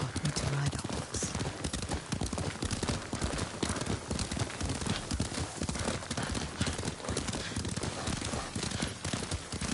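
Hoofbeats of a galloping horse in a samurai-era open-world video game, a steady rapid clip-clop that runs the whole time beneath continuous game music and effects, with brief snorting.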